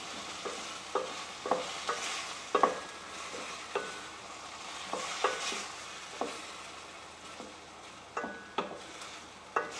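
Onions and tomatoes fry in oil in a pot under a low steady sizzle, with a utensil scraping and stirring at irregular intervals, each stroke a close, distinct clack.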